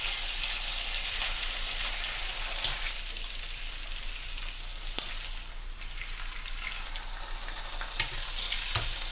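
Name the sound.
lamb frying and being stirred in a wok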